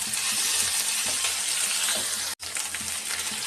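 Bottle gourd peel fries in hot oil in a pan, a steady loud sizzle that runs throughout with faint stirring scrapes, broken by one brief drop to silence near the end.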